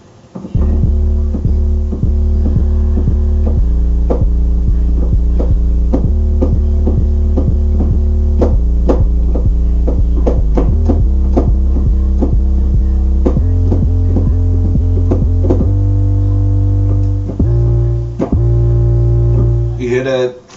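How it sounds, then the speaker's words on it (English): Deep 808 bass drum hits from the Maschine Monarch sound library, booming and sustained with pitched tails, playing loud and clean in a steady repeating pattern of changing notes, with no talking over them. "They got some 808s."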